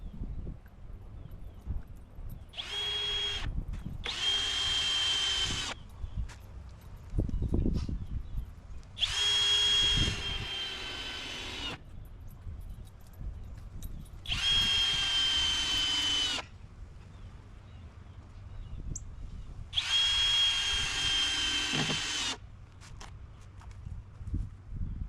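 A power drill drives screws into porch boards on a she shed build, with five separate whirring bursts, each a few seconds long, split by short pauses that carry light knocks and shuffling. Close and fairly quiet, with no voices.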